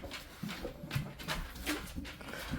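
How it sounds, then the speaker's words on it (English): A dog whimpers indoors in short, soft, high whines scattered over a steady background hum, reacting to someone outside. "My dog is telling me there's somebody outside."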